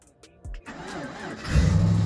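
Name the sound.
Chevrolet Lumina SS engine cold start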